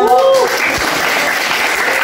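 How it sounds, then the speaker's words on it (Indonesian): Students in a classroom lesson give a short round of applause, continuous clapping of moderate loudness following a spoken voice at the start. "kalau ada kita beri tepuk tangan"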